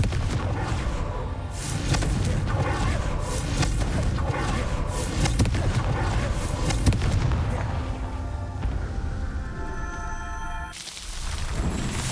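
Booming blasts from the Confringo blasting spell in Hogwarts Legacy ring out repeatedly amid dense, loud game effects and music over about twelve seconds, broken by a brief drop near the end.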